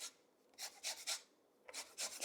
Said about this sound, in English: I'm going to zest it on the sheet that's going to go on my baking pan that the cake is going to bake on